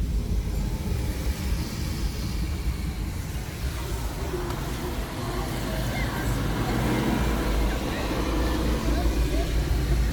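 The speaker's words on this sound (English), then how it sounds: "It is a double-decker bus." A double-decker bus on a cloudy, rainy day in Madinah, its low engine rumble steady and fairly close amid street traffic noise, with some talking over it.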